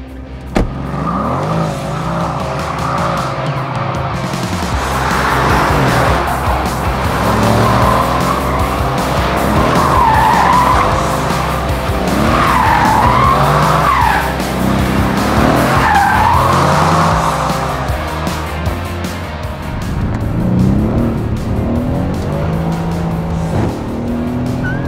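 Car doing a burnout, its tires skidding and squealing loudly and continuously over a revving engine, heard close up with the pitch of the squeal wavering throughout.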